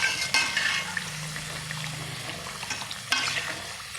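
Thattai deep-frying in hot oil for Deepavali gives a soft, steady sizzle at close range, broken by a few light clinks of a utensil, with no talking.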